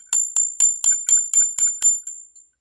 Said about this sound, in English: And you said the bell, which is right here in the front, really works.